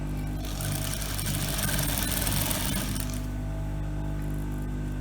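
A sewing machine stitches a pocket opening on a child's garment, a steady close mechanical whir with rapid needle clatter that builds for a few seconds and then settles into a quieter running hum.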